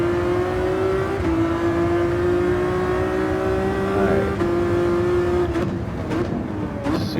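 Ferrari FXX K ('14) engine in Gran Turismo 7 at Sardegna Race Track A, a loud sustained high-pitched wail that climbs and holds through upshifts, close and clear with no talk.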